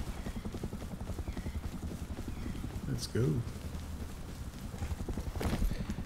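Steady clip-clop of horse hooves in a video game, a brisk even rhythm of hoof beats running throughout, with a short spoken phrase from a person partway through.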